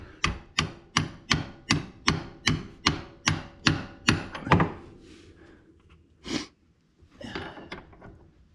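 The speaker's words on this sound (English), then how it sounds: "let me just take a hammer and just tap that in" A hammer taps a part into a Kawasaki Brute Force 650 ATV, about twelve sharp, evenly spaced metallic knocks close up, then a few scattered softer clunks and handling noises.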